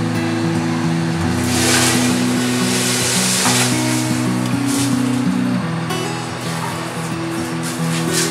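Rice poured into hot oil for beef kacchi biryani gives a steady, loud sizzle and frying hiss that lasts the whole stretch, with background music playing underneath.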